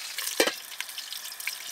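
Small garden eggplants frying in oil in a pan, a short burst of spitting crackle over a steady hiss.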